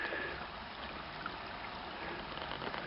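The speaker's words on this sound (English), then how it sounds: "There's a little creek here." A small unnamed creek in a southern Missouri valley, reached off-trail, gives a faint, steady trickling wash that runs evenly throughout with no voices.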